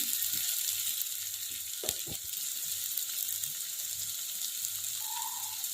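Dried chili powder sizzles in hot oil for a fish curry, a steady bright hiss running throughout with a few stirring scrapes near the middle.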